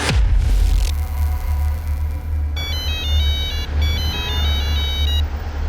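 A phone rings with a repeating electronic ringtone while a call is placed, after a short dial-up tone over a low rumbling background hum.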